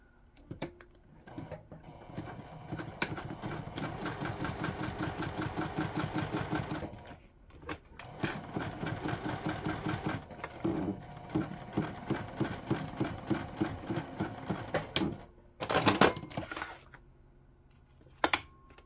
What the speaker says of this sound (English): let's get our top stitch